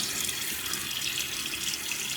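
Tap water runs steadily into a sink while the face is wetted before a shave, a smooth, close hiss of flowing water lasting a couple of seconds with no talk.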